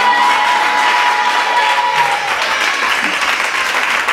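A church congregation claps and cheers loudly and steadily throughout, a dense continuous wash of applause from a large crowd acclaiming the Lord during a worship service.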